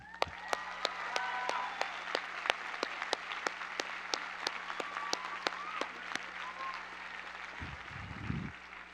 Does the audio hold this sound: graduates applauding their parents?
yes